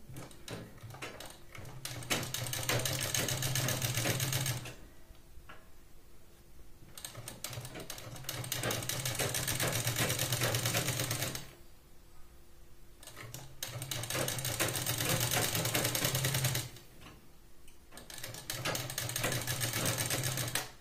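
A sewing machine stitching a blouse runs in three long bursts of rapid, steady mechanical chatter, each separated by a few seconds of near quiet with small handling clicks.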